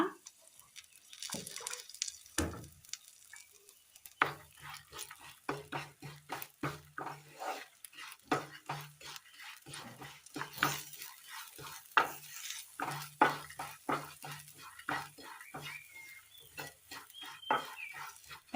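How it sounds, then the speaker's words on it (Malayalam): Grated coconut roasting in coconut oil with chilli powder, coriander powder and curry leaves for a Kerala curry, stirred with repeated scraping strokes of a spoon against the pan over a soft, steady sizzle, close and fairly quiet. "തേങ്ങ അങ്ങനെ നല്ലതുപോലെ മൂത്ത് വന്നിട്ടുണ്ട്"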